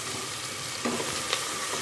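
Mustard seeds and crushed crab rasam spices sizzle and crackle steadily in hot oil, with a few pops and stirring sounds close by.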